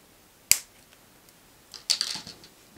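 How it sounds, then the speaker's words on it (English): Wire cutters snip off excess jewelry wire after a wrapped loop is made, one sharp crisp click followed a moment later by a cluster of small metallic clicks, close and clear with no talk. "go in and cut off the excess"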